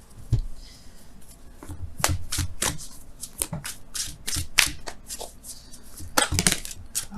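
A deck of Wisdom of the Oracle cards riffled and shuffled by hand, close up, producing repeated crisp bursts of fluttering and rubbing papery clicks with brief pauses between them.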